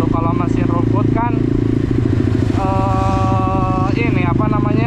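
Mini Trail RXF Medium motorbike engine on a test ride, a loud steady drone with shifting harmonic whine as revs rise and fall, continuous throughout with some clatter.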